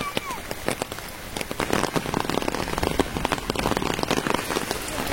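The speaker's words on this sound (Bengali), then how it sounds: "এইবার জোরে বৃষ্টি চলে এসছে।" Heavy rain pours down outdoors in a dense, steady patter of drops on hard surfaces. It is loud and continuous, and faint voices may sit underneath.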